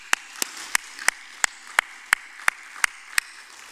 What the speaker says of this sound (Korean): 우리 이 장로님 우리 감사 박수 한번 합시다.